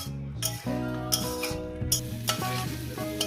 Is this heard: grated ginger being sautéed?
yes